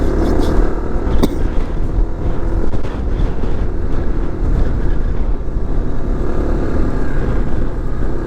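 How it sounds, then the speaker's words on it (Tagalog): Strong wind buffets the microphone while riding a motorcycle outdoors, a continuous low roar and rumble with steady gusty noise and no clear voices. "lakas kasi hangin."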